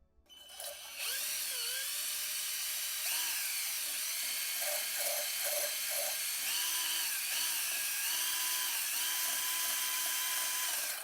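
Cylinder hone spinning inside an oiled Honda Ruckus engine cylinder, a loud continuous whirring drill whine with shifting pitch and rising and falling tones for over ten seconds.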